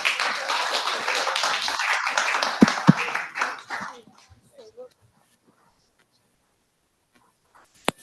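Audience applause at the close of a 2024 Milton MPP by-election debate, a dense wash of clapping that stops abruptly, leaving near silence with a couple of faint taps.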